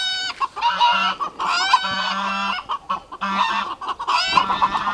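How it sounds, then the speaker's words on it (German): A family of agitated chickens clucks and squawks around a dead snake outdoors in the Algarve, Portugal, with loud overlapping calls close by and a rooster-like honking mixed in across the whole stretch. "Jetzt regt sich die Hühnerfamilie auf."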